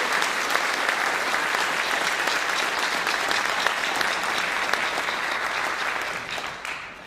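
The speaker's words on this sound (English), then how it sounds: "If you would please give them a round of applause." Audience applause at a school band spring concert, a dense, sustained clapping from a full room that slowly tapers off toward the end.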